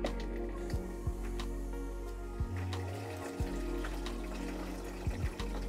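Hot water running from a tap in a van, a quiet steady stream with low gurgles and soft splashes recurring every second or so, close and faint.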